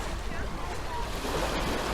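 Sea waves washing on the French Riviera shore, a constant broad surf wash with wind buffeting the microphone, fairly loud and close with no talk over it.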